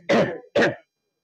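A person clears their throat twice in quick succession during a Sunday church service, two short rasping bursts close to the microphone with no talk around them.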